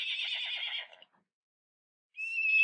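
A horse neighs in an augmented reality animal app: a high, wavering whinny for about a second, a short silence, then a second shrill whinny begins, clear and close with no background noise.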